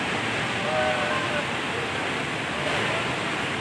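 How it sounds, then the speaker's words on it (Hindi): The floodwaters of the Panjkora River near Upper Dir in Pakistan rush past in a dense, continuous roar of turbulent water, loud and broadband with no pauses, and no voices are heard. "डुअरडीर के दरिया पंचकोड़ा में ऊंचे दर्जे का सैलाब है।"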